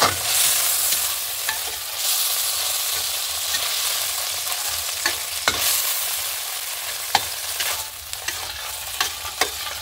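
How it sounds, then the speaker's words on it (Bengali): Steady sizzling of paneer frying in a pan, loud and continuous, with occasional clicks and scrapes of a utensil stirring; no voices. "পনিরটা হালকা করে ভেজে নিচ্ছি।"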